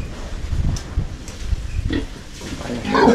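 Pigs grunting at a livestock sale, a few short low grunts scattered through steady crowd chatter and background noise, with people talking nearby throughout.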